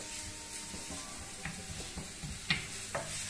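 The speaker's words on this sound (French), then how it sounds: "Un peu d'huile d'olive. Hop, on mélange l'oignon. On laisse un peu colorer." Onion frying in olive oil in a pan, with a soft steady sizzle and occasional light scrapes and taps of stirring, close but quiet, with no voices.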